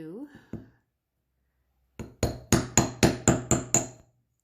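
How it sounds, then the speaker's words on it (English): Metal hammer strikes flattening thin jewelry wire for heart-shaped ear wires, about nine sharp ringing taps in a steady rhythm, close and clear, following a brief bit of speech-like sound at the start. "to hammer it until your wire is nice and firm"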